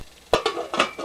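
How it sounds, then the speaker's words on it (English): A cooking pot being covered with its lid while the water inside boils hard: a few short metallic clanks and clinks in quick succession, close and moderately loud, with no voices. "Okay, lid goes on."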